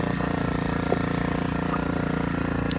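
An engine-powered crop sprayer pump runs steadily on a farm during spraying, a loud close mechanical drone with a rapid regular pulsing beat and a few faint knocks.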